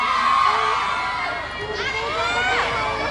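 A concert crowd at a show at KPU Goes shouts and cheers in a dense, continuous roar, with high voices rising and sweeping above the mass of noise throughout.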